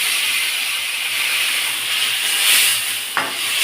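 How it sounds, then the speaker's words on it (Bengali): Water poured into a pot of sautéed chicken sets off a loud, steady steam hiss lasting the whole moment, with a brief clatter near the end and no talking. "এরপর আমি এতে জল দিয়ে মাংসটাকে সিদ্ধ হতে দেবো।"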